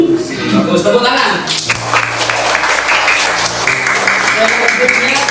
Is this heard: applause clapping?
yes